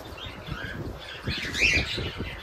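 Cockatiel chicks and their parents chirp and squawk together in a busy, continuous chatter, with a louder rising squawk midway over steady rustling and fluttering close by.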